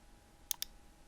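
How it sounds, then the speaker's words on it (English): Two quick, crisp computer mouse clicks close together, near and clear over a quiet background, while building a form in WordPress with Elementor. "After clicking the blank form, you will select first name"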